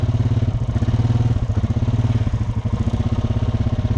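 A Honda Recon ATV engine runs close by with a loud, rapid, pulsing thump at a steady rhythm, a low chugging beat that holds throughout with no voices.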